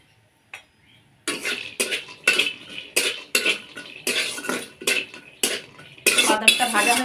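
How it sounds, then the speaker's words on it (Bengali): Peanuts are tossed in oil in a wok, making repeated loud bursts of dry rattling and scraping with short pauses between stirs, close and clear. "কিছুটা চিনাবাদাম ভেজে নেব।"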